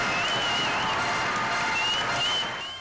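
Crowd of basketball fans in Orense applauding and cheering as players are substituted off, a dense, steady wash of clapping and voices that fades slightly at the end.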